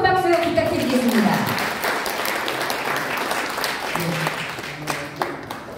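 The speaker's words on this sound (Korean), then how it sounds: "다시 한번 큰 박수 부탁드리겠습니다." Audience applause fills a forum hall, steady and broad from start to finish, with a host's voice speaking over the opening seconds.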